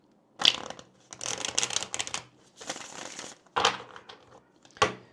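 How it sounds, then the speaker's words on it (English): Tarot cards shuffled by hand in several close, crisp bursts, papery riffling and crunching separated by brief pauses, with no talking. "let me go ahead and shuffle the cards here"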